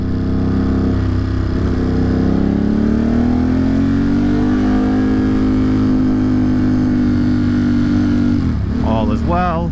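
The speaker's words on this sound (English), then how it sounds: "The bike is running good." A motorcycle engine with 21,620 miles on it runs during a ride around Brooklyn, holding a loud, steady, close drone that wavers in pitch near the end.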